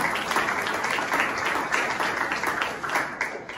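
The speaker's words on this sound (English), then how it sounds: "I will clap for that because I think that's awesome." Steady applause fills the whole stretch, a dense wash of many hands clapping together at an event honoring an architect, fairly loud and continuous without pause.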